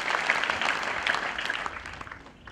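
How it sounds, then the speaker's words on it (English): Worship applause during Bishop Stuart University Week, with people clapping in praise of Jesus; a moderately loud wash of clapping from a crowd that gradually fades out toward the end. "Let us put together our hands and clap for you"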